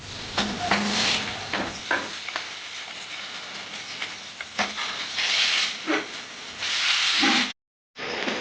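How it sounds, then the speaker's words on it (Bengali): Fish frying in hot oil in a home kitchen, with a close, crisp sizzling hiss that rises and falls in bursts, then a brief silent gap near the end. "বাবারে মাছ ভাজতে হবে অনেক"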